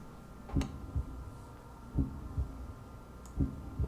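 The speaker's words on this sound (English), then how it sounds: "Well, got the heartbeat." Heartbeat effect from a golf video game, a low thudding pulse repeating in double beats roughly every one and a half seconds over a faint steady hum, no talking.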